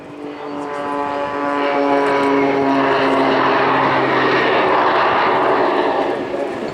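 Jet Pitts aerobatic biplane at an airshow, its engine droning loud and steady with a rising harmonic whine as it slows for a hover manoeuvre, continuous throughout.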